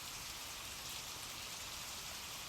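Steady rain hisses evenly in a dense, constant patter, with no gaps and no other sounds.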